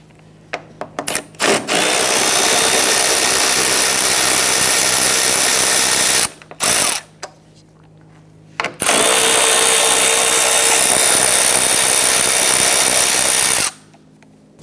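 Power tool loosening a radiator bracket bolt on a 2011-2019 Ford Explorer, two long loud whirring bursts with short stops and a few brief blips between them, up close and free of talk.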